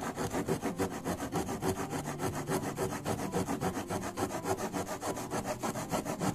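Small folding saw blade of a pliers-style multi-tool cutting through a thick stick of hinoki kindling from a 100-yen shop, a close, steady back-and-forth rasp in even rhythmic strokes.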